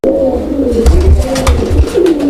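A male Gola pigeon calls with repeated throaty coos, loud and near, in a steady run of low notes.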